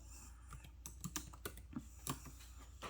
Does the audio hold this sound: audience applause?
no